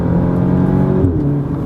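A 2016 Audi S3 with its factory resonator deleted pulls hard under acceleration, the engine note droning loud and close before a quick gear shift drops the pitch, then rising again.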